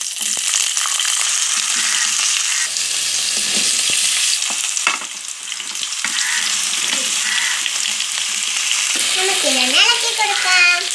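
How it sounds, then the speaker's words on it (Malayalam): Chopped raw banana sizzles steadily in a pan as it is stirred, with occasional scraping knocks; a wavering high-pitched voice-like tone rises over the frying near the end. "നമുക്കിതൊന്ന് ഇളക്കി കൊടുക്കാം."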